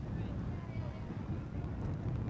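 Strong wind buffets a tent outdoors, producing a dense low rumble and flapping close to the microphone that continues unbroken throughout.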